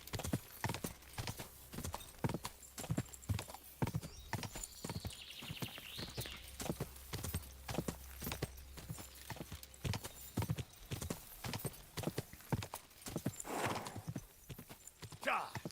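Horse hooves gallop in the video game Kingdom Come Deliverance 2, a fast, steady run of sharp clip-clop beats throughout, with a brief whinny and a player talking over them.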